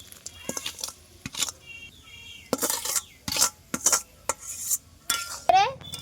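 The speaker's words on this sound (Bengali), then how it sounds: "এখন আমি মাখিয়ে নেওয়া কুলগুলো দিয়ে দিচ্ছি" Spice-coated jujube fruits tipped into a pan of thick, sticky pickle base, with scattered pot and spoon clanks, scraping and stirring bursts and a few soft clinks up close.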